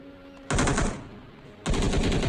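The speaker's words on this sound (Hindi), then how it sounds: "वो प्री फायर करते जा रहा है मेरे को निपटने के लिए" Automatic gunfire from an enemy pre-firing from a rooftop in PUBG Mobile, with two loud, close bursts of rapid shots separated by a short pause.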